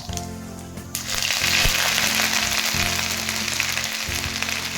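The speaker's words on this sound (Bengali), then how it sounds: "তেলটা গরম হয়েছে, শুকনো লঙ্কা আর গোটা জিরে দিয়ে দিচ্ছি আর দেবো আদা।" Dry red chillies, whole cumin and ginger hit hot oil for masoor dal with pui shak, bursting into a loud, close, steady sizzle after about a second of quieter kitchen noise and holding strong to the end.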